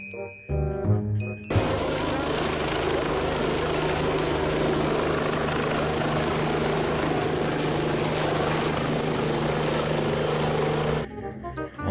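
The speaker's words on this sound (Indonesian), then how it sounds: "Wow, ada helikopter teman-teman." A toy helicopter whirs continuously for about ten seconds, a steady buzzing motor drone with a faint rotor hum, loud and close, starting abruptly after a brief moment of other toy noise and cutting off near the end.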